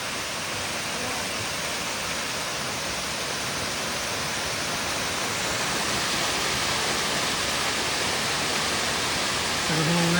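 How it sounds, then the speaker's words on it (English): Steady, broadband roar of a waterfall on a trail at Mount Rainier National Park, a continuous rushing wash of falling water heard close and alone, swelling slightly louder toward the end. "An absolutely beautiful waterfall."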